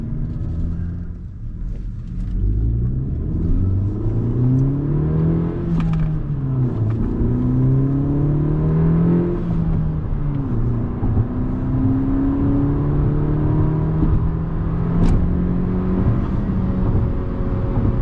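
A 2020 Honda Civic Si with a TSP Stage 1+ tune accelerating hard through a manual gearbox, engine tone climbing steadily, dipping at each shift, and rising again in a loud continuous in-cabin drone.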